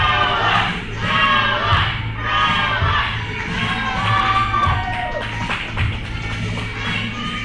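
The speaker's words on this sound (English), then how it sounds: "Listen to that crowd." A wrestling event crowd roars and shouts continuously, loud and dense, with scattered clapping and excited cries rising and falling across the arena.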